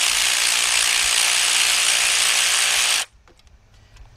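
A ratchet wrench rapidly clicks while backing out a 10mm ground wire bolt on a 2006 Kia Sportage EX 2.7, a dense, loud, steady buzz of pawl clicks for about three seconds before stopping abruptly, leaving faint workshop noise.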